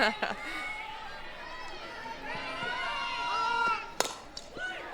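Razorback fans at an Arkansas college softball game against Texas A&M call out together for a strike, a sustained crowd roar of overlapping shouts and whistles rising through the stands, with a sharp bat-like crack near the end.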